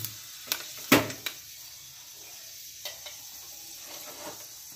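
Panch phoron seeds dropped into reddened hot oil for gobhi matar sabji, giving a few sharp crackles and spits near the start, then a faint sizzle and occasional pops nearby.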